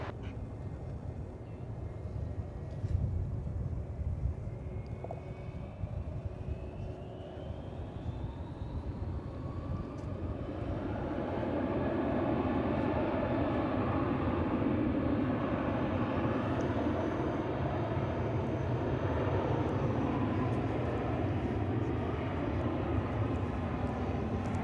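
A distant airplane taxiing toward a cargo parking area at Dallas/Fort Worth airport, its engine noise a steady broad rumble that grows fuller partway through and holds on, with no voices.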